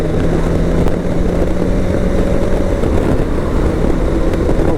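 BMW K1100LT motorcycle dropping a gear and pulling hard to overtake, a steady loud engine drone with wind roar throughout and no talking.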